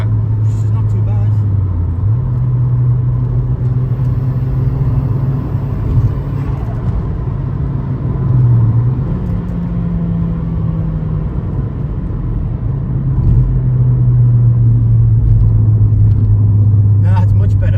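Vauxhall Astra GSi on the road, its engine droning steadily up close with shifting pitch as it pulls under boost, an uneven rumble running through the whole stretch with people talking over it.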